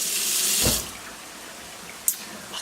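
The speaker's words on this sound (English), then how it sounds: "Rinse it out, make sure there's no seed." Tap water runs into a kitchen sink while a pepper is rinsed, a loud close splashing gush that stops after under a second, followed by quiet room tone and a single sharp knock.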